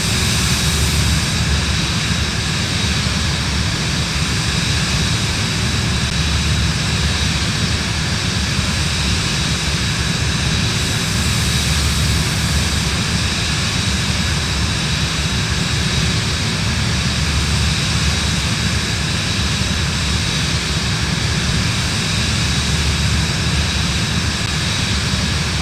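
A Cirrus Vision Jet G2 climbing after takeoff from Cozumel in Microsoft Flight Simulator, with a steady, loud jet engine roar and cabin hum that stays constant throughout with no talking.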